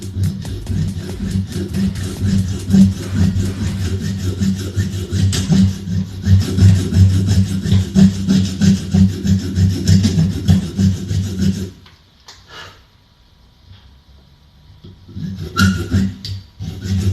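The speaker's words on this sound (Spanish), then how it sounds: "vamos a proceder a marcar con la sierra la ranura para la sexta cuerda." A small hand saw cuts the sixth-string slot into a bone nut for a Gibson Les Paul, a loud, close, rhythmic rasping back-and-forth that stops briefly near the end, then resumes.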